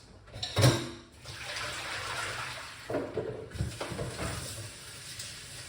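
Beets are rinsed under running water in a big sink, a steady close splashing stream with a brief louder clatter near the start and shifting splashes as the roots are handled.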